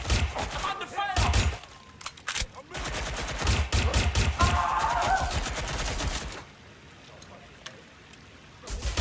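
Rapid bursts of gunfire crackle through a Watch Dogs Legion firefight, dense volleys stacked close together and loud, then thinning to a few scattered shots near the end.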